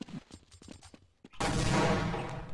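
Gunfire in a Counter-Strike match on the de_nuke map: a few sharp shots with scattered clicks, then a dense, loud burst of gunfire that holds to the end.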